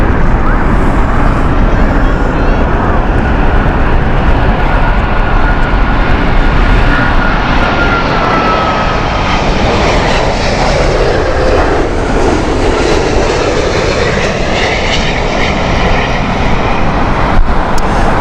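Jet airliner engines at Heathrow Airport on a windy morning, a loud, sustained roar that swells and shifts as an aircraft passes, steady throughout with no clear talking.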